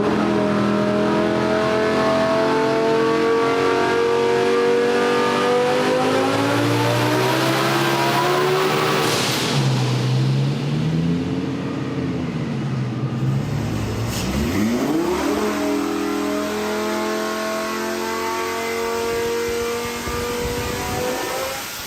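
A billet-block Lamborghini 5.2-liter engine on a dyno pull with boost, a loud, near, sustained rising roar climbing through the revs, dropping off, then revving back up with a harsh high whine.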